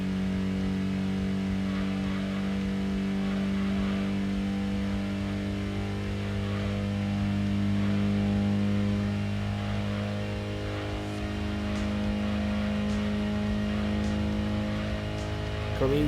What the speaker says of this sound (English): And there goes the fifth gear on this classic car.